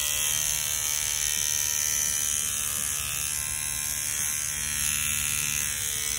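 A Mummy C1 tattoo machine runs continuously with a steady, close electric buzzing hum and a bright high-pitched whine, even and unbroken throughout.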